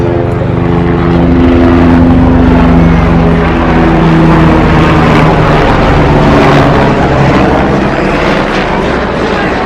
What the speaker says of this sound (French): Il y a aussi des hélicoptères qui survolent